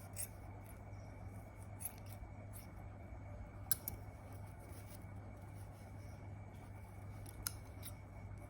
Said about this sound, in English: So now I'll trim just a little of the edges.